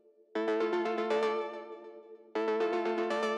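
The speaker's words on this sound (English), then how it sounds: "This short plucky sound from my MIDI preset pack." A short, plucky, mid-heavy synth lead from a MIDI preset pack, used in a techno track, plays two quick bursts of staccato notes that ring briefly and clearly, alone and fairly soft.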